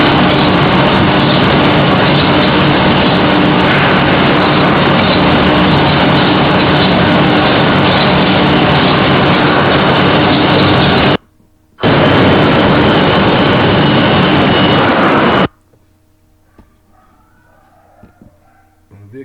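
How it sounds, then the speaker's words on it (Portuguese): A PVC calendering machine runs with its conveyor feeding mixed polymer paste onto the calender rolls, making a loud, continuous industrial roar that briefly drops out, resumes, then stops abruptly into near quiet. "A esteira pega esse polímero misturado em pasta, né? E tá jogando em cima dos rolos de calandra, dos cilindros de calandra lá em cima"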